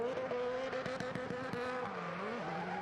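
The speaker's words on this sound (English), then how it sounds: "you can hear him just fettling the throttle, can't you?" Travis Pastrana's Family Huckster car slides on track at the Velocity Invitational, its engine note rising and dipping as the throttle is blipped and feathered, with a loud, sustained tone.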